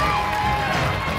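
A crowd of home cooks cheers and shouts at a MasterChef cooking competition finale, a brief, loud burst of overlapping voices and applause-like noise.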